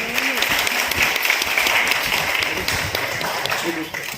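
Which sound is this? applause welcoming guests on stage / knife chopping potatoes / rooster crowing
applause welcoming guests on stage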